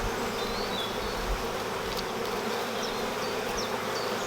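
Honeybees buzz steadily during a hive inspection, a dense close drone with occasional individual bees whining past, and no talking.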